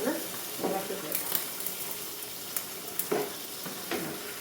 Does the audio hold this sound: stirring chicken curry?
yes